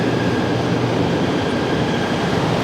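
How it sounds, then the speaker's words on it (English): A train rumbles steadily at Padang Besar railway station on the Malaysia-Thailand border, a loud, continuous roar of wheels and carriages with broadband rail noise throughout and no voices. "we're at Padang Besar, my favourite border crossing railway station"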